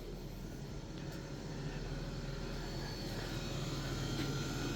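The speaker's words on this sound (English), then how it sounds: "AC pump, the way to go." An electric A/C compressor pump runs in a classic VW Beetle, fitted in place of a belt-driven compressor, giving a steady, close, unbroken drone with a faint high whine riding on top, constant in level throughout with no voices.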